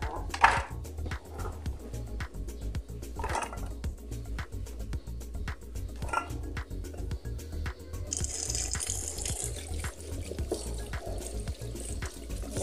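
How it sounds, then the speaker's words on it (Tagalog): Tap water runs steadily into a sink while jackfruit is washed for a Filipino coconut-milk milkfish dish, with a continuous splashing stream, a rhythmic dripping pattern and occasional knocks of fruit and container. "ating hugasan ang ating langka"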